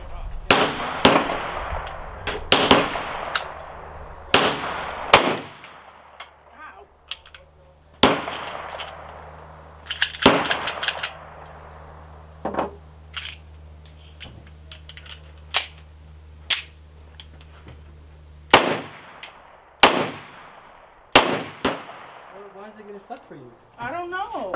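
A gun is fired again and again in uneven bursts of sharp, loud cracks with short pauses between them, with people talking in between.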